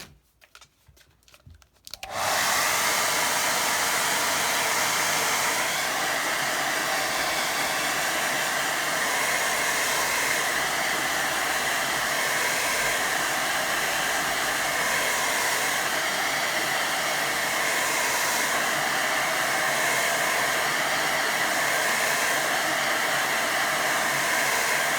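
A hair dryer blows on a watercolour painting, starting after a brief quiet moment and then running steadily and loudly without a break for the rest of the time, with no voices.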